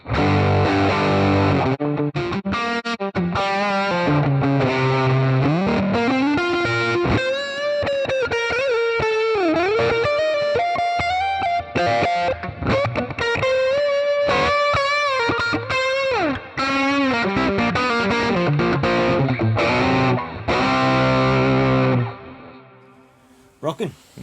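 A Stratocaster played through the high-gain Lone Star Boogie channel of a Joyo preamp pedal rings out with heavy distorted sustained notes and bends, reverb tails trailing, then the playing stops and fades near the end.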